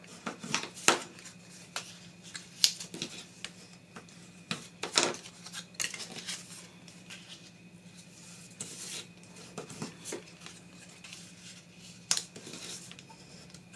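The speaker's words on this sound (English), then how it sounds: "Then I'm going to fold and burnish all my score lines, bone folder." Paper score lines being folded and burnished with a bone folder: faint, close scraping and sharp crisp creasing taps scattered irregularly over a quiet background hum.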